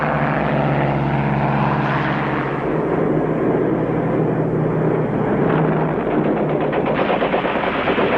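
American fighter planes intercept Japanese aircraft formations: propeller engines drone loudly and continuously, with bursts of machine-gun fire running through the roar.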